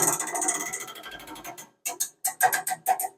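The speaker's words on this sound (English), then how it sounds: "All you need to do is crank it down all the way." A sausage stuffer's rack is cranked down toward its bottom position. A close mechanical whir and grinding gives way to a sequence of sharp, distinct ratchet clicks after a short pause.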